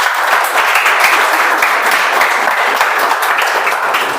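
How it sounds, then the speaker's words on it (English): Dense, steady applause from an audience at a meeting, continuous clapping throughout with no pauses. "Can you have a round of applause for them?"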